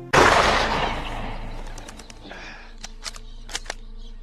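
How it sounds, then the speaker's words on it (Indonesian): One sharp, loud movie gunshot rings out and echoes away, followed by faint scattered clicks and chirps. "Chuck mengira kalau itu adalah Ian dan dia langsung menembaknya."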